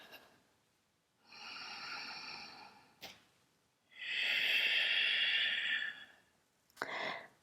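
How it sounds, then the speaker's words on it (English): Slow, steady breaths during a yoga session, a long drawn inhale followed by a longer exhale and the start of another, close and airy with quiet gaps between them. "Really try and keep your inhales and exhales steady"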